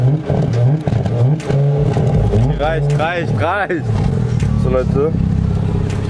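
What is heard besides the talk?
car driving off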